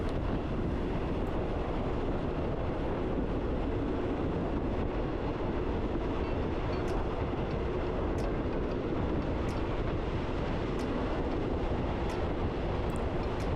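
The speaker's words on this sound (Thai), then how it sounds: "อีกสักครู่ขบวนรถก็จะเข้าสู่สถานีรถไฟลังสิตแล้วนะครับ" A Thai train arriving at Rangsit station makes a loud, constant rolling rumble with wind buffeting and faint clicks. It runs steadily throughout with no voices.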